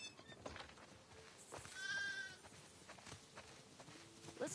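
Sheep bleat in a farm barnyard in The Last of Us Part II, with a couple of distinct wavering calls rising over quiet ambient rustling and footsteps, close and moderately loud.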